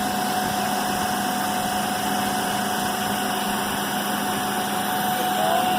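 A motor-generator set runs steadily during a Hopkinson back-to-back test, a continuous electrical hum and machine whine with a constant tone, close and even throughout with no talking.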